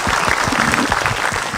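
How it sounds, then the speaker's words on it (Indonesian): Dense audience applause during an Islamic religious lecture, close and loud, with steady rapid clapping from a large crowd throughout the brief moment. "Boleh tepuk tangan dulu?"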